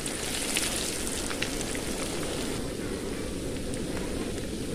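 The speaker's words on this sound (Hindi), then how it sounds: "एक साइड फ्राई हो गया, दूसरे साइड पलट देंगे" Potato bread pakoras frying in hot oil, a steady close sizzle and crackle that holds evenly throughout with no talking over it.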